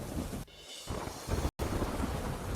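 Heavy downpour over flooded farm fields in Saurashtra, a loud continuous roar of rain with a rumbling low wash, briefly thinning and cut by a short gap of silence before resuming just as strong.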